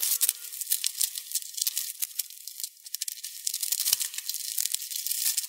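Packaging for a Samsung Galaxy A32 phone is torn open during an unboxing, a continuous close crinkling, ripping rustle with a couple of soft thumps and no talking.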